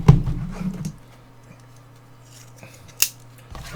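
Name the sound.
knife cutting open a Topps Chrome blaster box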